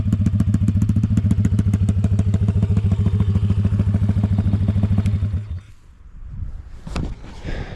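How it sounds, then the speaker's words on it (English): A small Honda ATC 70 engine idles loudly with a steady, throaty exhaust putter, then cuts off abruptly, leaving quiet rustling and a sharp clack. "That exhaust sounds pretty good."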